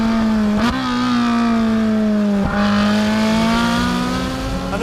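Ferrari 458 Speciale with a naturally aspirated engine revving hard, a loud, steady high-pitched wail that rises and falls across two climbs in pitch, continuous and up close with no talking.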